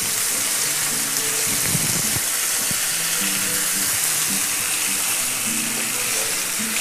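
Chicken tangdi kebab fries in a pan with a steady, close hiss of sizzling oil. Faint clicks and low clatter sit beneath the sizzle throughout.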